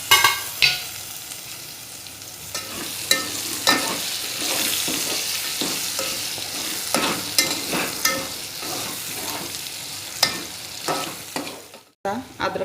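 Hyderabadi chicken biryani masala with ginger-garlic paste fries loudly in a pan, a constant close sizzle broken by scraping spoon strokes as it is stirred, with no speech.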